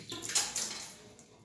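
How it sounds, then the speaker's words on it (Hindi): Water gushing and splashing from the opened water pipe of a 6-litre electric geyser, a short close burst of running water. "जो पानी का पाइप है उसे हम खोल देते हैं।"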